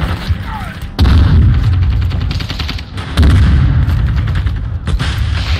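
Gunfire from Call of Duty: Modern Warfare 2 multiplayer, with heavy bursts of shots and booming impacts that swell loudly at several points, mixed with in-game sounds.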